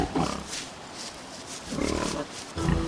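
Grunting, snorting animal noises come in a few rough bursts, loud and close, like a pig squealing and snuffling between pauses, from a pig character in the video game Don't Starve.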